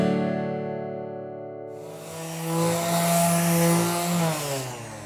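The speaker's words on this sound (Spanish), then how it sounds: "Estoy lijando ahora todas las maderas y luego les vamos a dar color." A power sander on pine boards for a concrete-and-pine garden bench starts with a tonal motor whine, then turns rougher and more abrasive as it bites into the wood, close and alone.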